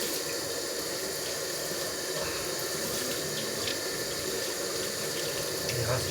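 Tap water running steadily into a sink while salt is rinsed off salmon, a constant close splashing hiss with a few faint handling sounds.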